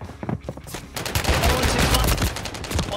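Pistol shots in a video game shooter, several loud sharp cracks in quick succession over a dense, busy game soundscape, close and forceful.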